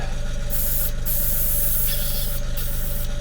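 Cleaner is sprayed onto a car body being prepped for a decal wrap, in several sharp hissing bursts from a spray nozzle, close and fairly loud, over a low steady hum.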